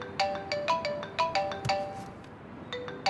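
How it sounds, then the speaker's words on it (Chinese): A mobile phone ringtone plays a repeating bright electronic melody of short tonal notes, loud and close, with a brief pause before the tune starts again, in an indoor scene with no talking. "有电话干嘛不接啊？"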